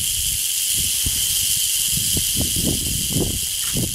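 A large Western diamondback rattlesnake outdoors in January gives a steady, close hiss with a continuous buzzing rattle, broken by repeated huffing puffs of breath, with no voices.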